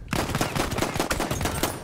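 Pistol gunfire in Battlefield 1 cracks out as a fast run of repeated shots, steady and fairly close, during a brief exchange with no voices.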